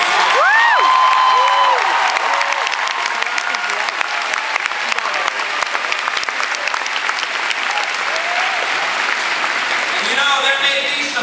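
A large audience at Kent State applauds and cheers for the family of a soldier killed in Afghanistan, with loud, sustained clapping and scattered whoops and shouts rising over it throughout.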